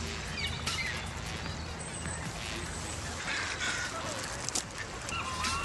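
Ducks quacking in a wobbly, repeated way, set against a steady wash of outdoor background noise on a snow day, with the calls fairly faint and scattered across the stretch.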